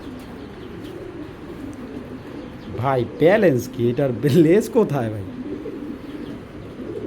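Racing pigeons coo in a run of deep, rhythmic, throaty calls up close, several overlapping coos in a short burst, while someone talks over them.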